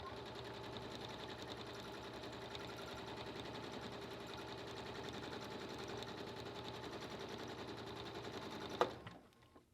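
A sewing machine runs at a steady fast stitch on a Grace Cutie tabletop quilting frame, a continuous close mechanical whir with even needle clatter that winds down at the end.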